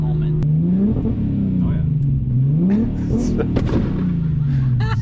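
A big single turbo R32 Skyline GTR accelerates hard through repeated gear changes, its engine note climbing in rising sweeps, with sharp pops and cracks from the exhaust, loud and close from inside the car.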